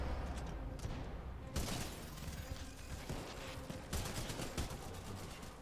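Spitfire light machine gun firing in the shooter game Titanfall 2, rapid automatic bursts with mechanical clatter and impacts, fairly faint under dense game effects, one burst starting sharply partway through.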